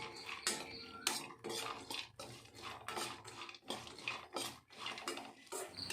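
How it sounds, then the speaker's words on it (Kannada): Raisins in ghee being stirred in a pan for dry fruit laddu, heard as quick, close clinks and scrapes of a spoon against metal in irregular bursts, fairly quiet and without talk. "ದ್ರಾಕ್ಷಿ ಎಲ್ಲ ಜಾಸ್ತಿ ಏನು ಉಬ್ಬು ಬೇಕಾಗಿರಲ್ಲ, ಇಷ್ಟು ಫ್ರೈ ಆದರೆ ಸಾಕಾಗುತ್ತೆ."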